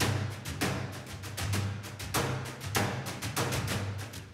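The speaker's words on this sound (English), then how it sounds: "so they're just playing brushes on toms" Brushes played on toms from Heavy Ocity's Damage library form a steady, busy rhythmic pattern of swishy, thumping hits with low tom resonance, loud and continuous with no talk.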